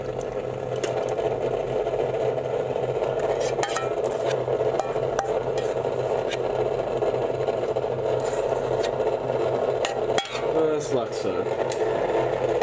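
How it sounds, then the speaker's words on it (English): A countertop ice cream machine runs with a steady mechanical whir while thickened cream is poured in for strawberry ice cream, the motor hum continuous throughout with light clinks and a voice speaking briefly over it. "We're going to turn it on, and we're going to start by adding in 2 cups of thickened cream."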